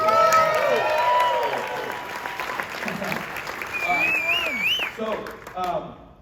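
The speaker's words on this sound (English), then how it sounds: "That was worth probably a better applause than that" Applause from a keynote audience at a business event in Las Vegas, moderate and fading over several seconds while a voice speaks over it.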